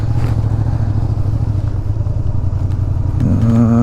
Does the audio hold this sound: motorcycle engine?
yes